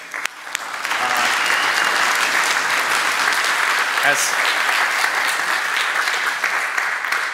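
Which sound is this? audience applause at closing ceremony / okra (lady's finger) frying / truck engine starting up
audience applause at closing ceremony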